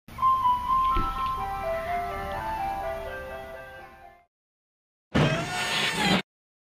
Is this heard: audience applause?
no